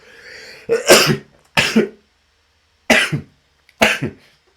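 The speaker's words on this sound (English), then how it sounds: "Sorry, sneezing." Four short, sharp bursts of sneezing or coughing, evenly spaced with quiet gaps between, loud and close to the microphone.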